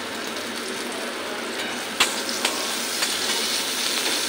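Onions frying lightly in a pan with ginger and garlic nearby, a steady soft sizzle throughout with a few small clicks and taps of a utensil.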